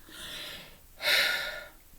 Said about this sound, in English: My yawning is getting bad.